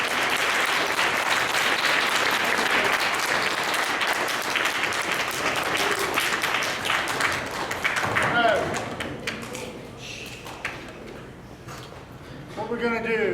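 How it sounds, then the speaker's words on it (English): An audience applauds at a traditional music event, with loud sustained clapping that thins out midway and turns into scattered claps, light thuds and background chatter before a brief renewed burst. "a huge round of applause"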